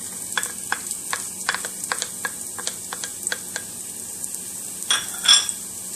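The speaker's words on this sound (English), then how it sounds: "So let's get this hot and then we'll start. So we're going to add the onions." Onions go into a hot pan and are stirred, with a series of sharp utensil taps and scrapes against the pan in an uneven rhythm over a faint sizzle, close and without speech.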